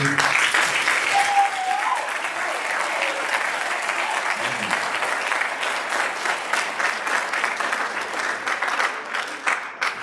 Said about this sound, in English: let's take a moment and just give a round of applause for Khalid.